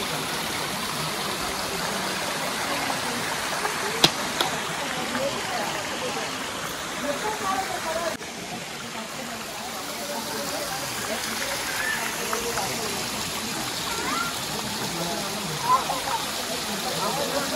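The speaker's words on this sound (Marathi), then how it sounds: "व्हाळात बघा कशी मस्ती करताय आरवी." A Konkan village stream flows with a steady, rushing broadband wash of water that stays constant throughout, with occasional small splashes and faint background voices.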